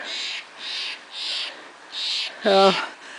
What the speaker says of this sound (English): The jays are out quarreling over the sunflower seed. It's the racket in the background.